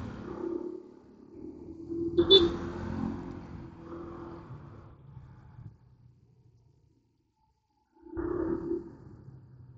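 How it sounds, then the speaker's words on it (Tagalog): Road traffic heard from a Honda ADV160 scooter in slow, crawling city traffic: vehicle engines rumble and rev nearby in bursts, fading to near silence midway before another engine swells up close. "Ito nga masyadong traffic guys, oh."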